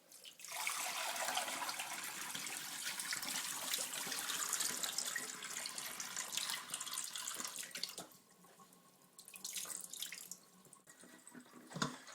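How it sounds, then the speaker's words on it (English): Water from a bowl of washed grapes pours out into a sink in a steady rush for several seconds, then thins to trickles and drips. "We're going to empty out this water."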